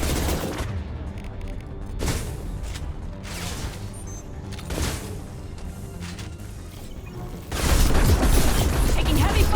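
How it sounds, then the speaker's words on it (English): Heavy gunfire in a Mass Effect firefight, dense bursts of shots and booms that swell and fade in waves before an even louder barrage near the end, with a voice talking over parts of it. "Taking heavy fire."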